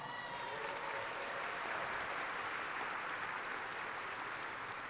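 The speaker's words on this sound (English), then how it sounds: "Give yourselves a round of applause." Steady applause from a crowd at a celebration event in San Diego, California, continuous clapping heard at a distance, fairly faint and even throughout.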